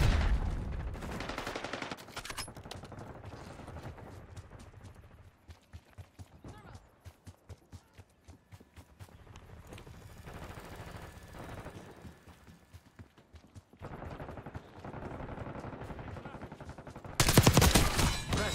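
Bursts of automatic gunfire in a Call of Duty Black Ops 6 match crackle through the mix, with rapid shots at varying distance over game announcer voice lines and ambient battle noise, ending in a loud close barrage.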